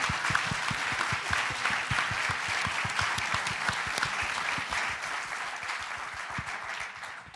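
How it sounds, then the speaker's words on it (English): An audience in a New York Holocaust memorial museum applauds Holocaust survivor Jack Feldman on stage: dense, sustained clapping from a crowd that holds steady for several seconds, then slowly thins toward the end. "So let's give Jack a round of applause."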